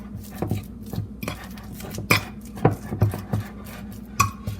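A fork works flour into mashed banana for a caramelised banana cake batter, tapping and scraping against the bowl in a quick irregular rhythm of close, sharp clinks.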